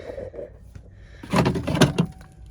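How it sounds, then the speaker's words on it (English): A glove box opened on a 1966 Plymouth Sport Fury that has sat for over 35 years, giving a faint click followed by a louder rattling, clunking burst of the latch and contents. "Let's see what's in the glove box."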